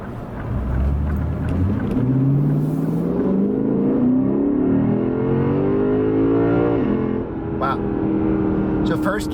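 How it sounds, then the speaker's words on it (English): A 2020 Lexus RC F Track Edition with an 8-speed automatic accelerates hard in sport mode, its engine note climbing loudly through rising revs with a quick automatic upshift, heard from inside under steady road noise. "now we're in sport mode. We're going to let the car shift for itself here."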